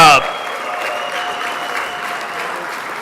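An audience at an RC racing awards banquet gives steady applause that starts after a brief voice and then holds at an even level, sounding like a crowd in a room.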